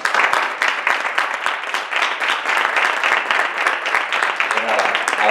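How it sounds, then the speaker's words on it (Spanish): A conference audience at an osteopathy event in Granada gives a strong round of applause, dense continuous clapping from many hands with voices mixed in. "os pido otra vez de nuevo un fuerte aplauso para darles energía"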